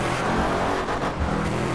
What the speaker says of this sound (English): Oh, it's like a V8.